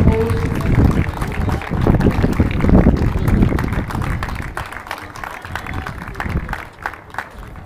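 Crowd applause at an awards ceremony, a dense clatter of clapping that swells early and then slowly thins out. Wind-like noise runs underneath.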